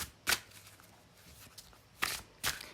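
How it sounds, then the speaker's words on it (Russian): Shuffling a deck of metaphorical tarot-style cards for a reading: three quick papery riffle bursts, the last two close together near the end, with quiet room tone between and no talking. "Перемешаем наши карты."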